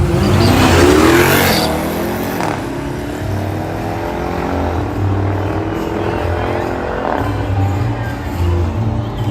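A street race car launches and accelerates hard down a drag strip at night, engine roaring loud and close for the whole pass, with a crowd's voices mixed underneath.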